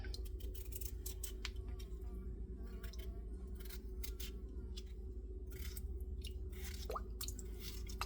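A knife cuts through raw potatoes at home, giving a run of quick close chops and squishy slices over a steady low hum from a pot of water heating on the stove.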